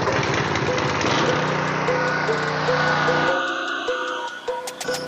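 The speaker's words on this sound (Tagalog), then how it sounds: "Buhay natin yung ating generator." Philking PK160A gasoline inverter welding generator running: a loud, steady engine drone with a buzzing mechanical whine that shifts and settles lower partway through, with faint clicks near the end.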